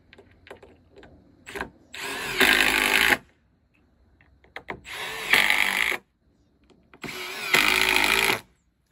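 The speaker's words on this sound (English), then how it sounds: "I went and I re-drilled all the pilot holes using the countersink bit just as before, and then it's just a matter of screwing them in." Power drill driving screws into deck boards, three separate loud whirring bursts of about a second each, separated by quiet pauses with faint handling noise.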